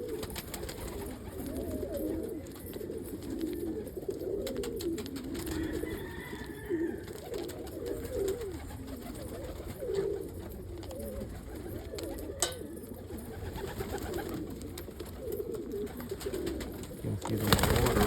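Pigeons or doves coo softly at a moderate distance while being fed pizza crust outdoors, the low murmuring calls repeating under a constant rumble of background noise, with a faint voice now and then.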